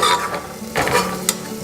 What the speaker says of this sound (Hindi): सारे मसालों को मिक्स कर लेते हैं।